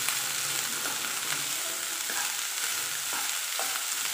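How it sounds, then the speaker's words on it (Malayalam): Rice, chopped vegetables, plantain and carrot stirred in a pot for a home-style Kerala lunch, with a steady bed of frying sizzle and scraping spoon strokes at intervals, close and fairly loud, no talking. "പച്ചക്കറി അരിയൊക്കെ ഇട്ട് കൊടുക്കാം. പഴവും അതുപോലെ ക്യാരറ്റ് എന്നിട്ട് നന്നായിട്ട് തന്നെ ഇളക്കിക്കൊടുക്കും."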